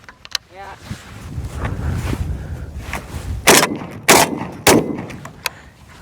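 A BB12 shotgun fires three loud, sharp blasts about half a second apart, with an earlier softer crack and a low rumble of wind or murmuring voices in between.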